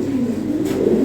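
Frenzy pigeons in a loft give a short burst of low, throaty cooing, close and fairly loud, with several birds overlapping and no voices.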